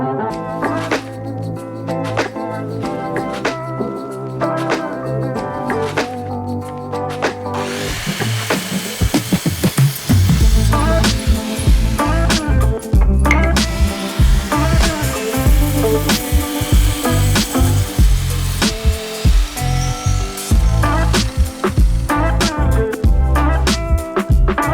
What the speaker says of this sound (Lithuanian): Pradedame pjauti tašus naudodami traukimo ir skersavimo pjūklą.